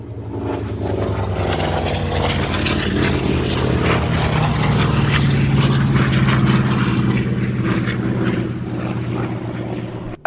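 A Fury propeller aircraft landing at an airshow, its piston engine droning loud and steady with a strong low harmonic hum that swells slightly mid-pass and eases off toward the end.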